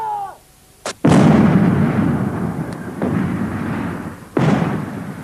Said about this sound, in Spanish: Cuando disparas este cañón de 105 milímetros, toda la torreta se llena con la explosión